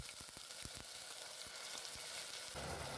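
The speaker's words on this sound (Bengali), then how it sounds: "পেঁয়াজ রসুনের কাঁচা গন্ধ চলে না যাওয়া পর্যন্ত ফ্রাই করে নেব" Blended onion, two garlic cloves and a small piece of ginger paste fry in a hot pan for a pumpkin korma, giving a steady close sizzle with scattered crackles and pops throughout.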